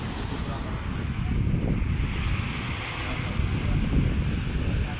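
Sea waves at high tide surge and wash continuously with a roaring rush, mixed with heavy wind buffeting the microphone.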